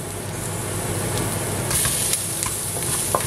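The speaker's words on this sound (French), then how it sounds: "Je vais mettre un petit peu de curry avec les oignons." Onions with curry powder fry in a pan with a close, steady sizzle, and faint stirring clicks and scrapes come through now and then.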